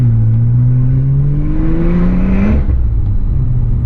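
A Porsche 911 Turbo of the 991.1 generation revs hard, its loud engine note climbing steadily in pitch for about two and a half seconds, then cutting off into a deep idling rumble.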